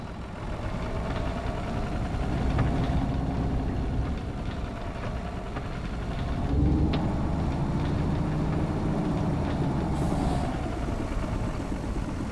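A cold tractor engine idles with a steady low rumble and faint knocking rhythm, close and continuous, with slight swells in intensity and no talk.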